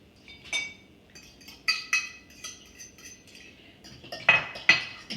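Sugar is stirred in a mixing bowl with a spoon or whisk, the utensil giving light, scattered clinks and scrapes against the bowl that become louder and sharper near the end.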